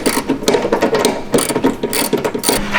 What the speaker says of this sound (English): All right, so now we got all the bolts off.